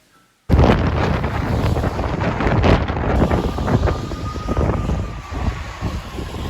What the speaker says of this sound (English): This is audio from that night as the wind battered a stop sign on 149th Street.